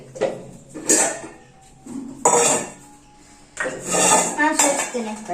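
Metal pots and pans clatter and clang in a home kitchen, several loud bursts of banging and clinking spread across the moment, with brief speech in between.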